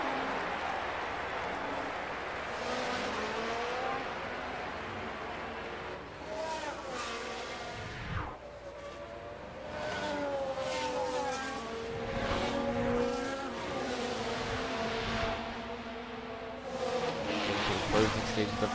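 Race cars lap a Las Vegas circuit in the closing stages of a race, engines whining and buzzing continuously with rising and falling passes throughout, under steady commentary.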